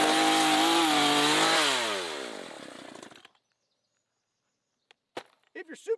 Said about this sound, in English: Chainsaw.